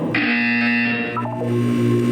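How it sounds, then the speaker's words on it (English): A steady electronic buzzer from the video game Portal 2 holds a sustained tone for about a second, then shifts and fades into a lower droning hum, heard alone without talk. "When you hear the buzzer, look down at the floor"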